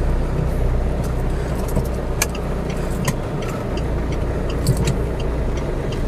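A car drives along with a steady, close engine and road rumble throughout, accompanied by occasional faint clicks and ticks, with no one speaking.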